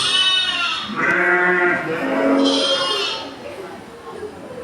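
Sheep bleat in several wavering, drawn-out cries close by, with overlapping calls from the flock and one voice talking over them.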